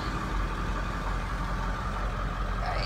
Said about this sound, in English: purr of the diesel engine